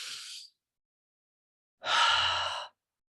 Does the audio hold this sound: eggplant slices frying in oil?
no